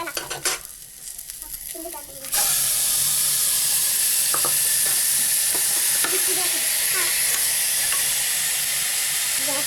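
Mutton pieces drop into a pan of fully browned onions, setting off a sudden loud, steady sizzle and hiss that carries on without a break after a quieter stretch of faint kitchen clatter.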